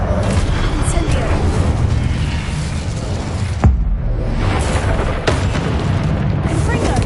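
A fiery Incendio spell blast in Hogwarts Legacy erupts as a loud, dense boom, with rumbling game effects and a sharp burst of impact partway through, plus further thuds amid continuous combat noise and voices.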